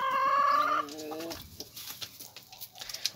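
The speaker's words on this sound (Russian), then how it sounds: "1, 2, 3, 4 курицы и 3 петуха." A flock of four hens and three roosters, one bird letting out a loud drawn-out call at first, then softer scattered clucks and rustling nearby.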